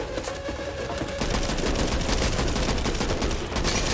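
Sustained rapid gunfire in the zombie shooter Back 4 Blood during a police station fight, loud dense automatic bursts filling the whole stretch with little pause.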